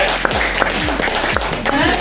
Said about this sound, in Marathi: पहिली गोष्ट म्हणजे टाळ्या जोरदार व्हायला पाहिजे